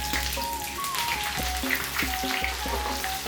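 Onions frying in mustard oil, a steady sizzle and crackle with light popping, joined by faint tonal whistles and low rumbling in the background.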